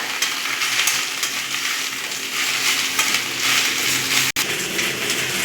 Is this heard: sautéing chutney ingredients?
yes